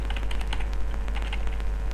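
Rapid typing on a computer keyboard while entering a command to configure a Cisco switch, a quick irregular run of close, crisp key clicks over a low steady hum.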